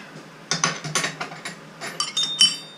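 A drawbar on a milling machine is tightened to lock a tool into the MT2 taper of the quill: a close run of sharp metallic clicks and ratchet-like clinks in an irregular rhythm, with no talking.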